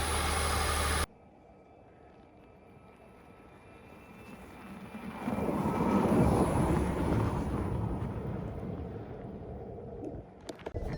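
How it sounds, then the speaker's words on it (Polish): The combustion engine of a hybrid Nissan X-Trail runs quietly at first, then swells into a steady low rumble that holds for several seconds before easing off, heard from inside the car with no speech. "jest tu silnik spalinowy, słychać go i to jest bardzo, bardzo fajne"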